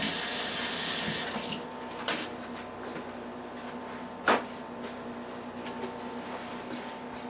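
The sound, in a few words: water running from a tap while washing hands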